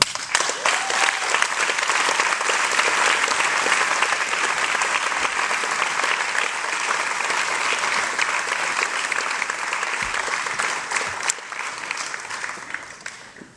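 A graduation audience at Berklee in Valencia gives José María Cano long, dense applause, loud and steady throughout before tapering off at the close.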